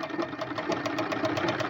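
A sewing machine stitches in a round curve along the edge of a suit's neckline. It runs as a steady, fast mechanical whir with a rapid, even pulse of stitching and nothing else over it.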